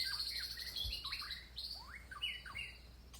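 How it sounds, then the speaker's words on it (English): Birds chirp outdoors: several faint, quick rising and falling tweets scattered irregularly over soft background hiss, with no other sounds. "Listen to the birds."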